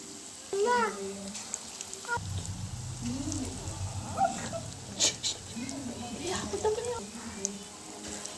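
Boiled-potato bajji fritters are dropped one by one into hot oil, and a low bubbling sizzle swells and carries on under someone talking nearby, with a few light clinks.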